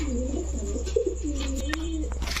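Pigeons at a Bangladeshi street seller's stall, including Giribaz, Lahori and racer breeds, give low continuous cooing with warbling rises, steady and close over a constant low hum.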